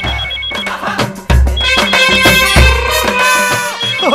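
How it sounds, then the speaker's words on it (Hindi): A telephone ringtone plays loudly and close by, in a Bhojpuri film scene, with repeated melodic rings and percussive hits over several seconds. "सीएम साहब का फोन, सच में देखिए ना"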